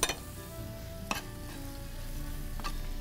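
A sautéed base of aromatics sizzles steadily in a pan for cream of mushroom pot dessert as chopped parsley goes in and gets stirred, with a few sharp utensil scrapes and clinks over the constant frying hiss; no talking.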